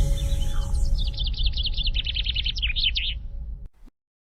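A small bird sings a quick run of bright, repeated chirps and trills over a low rumbling background, fairly near, before the sound cuts off abruptly.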